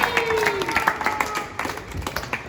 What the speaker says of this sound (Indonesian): Tepuk tangan buat kita semua.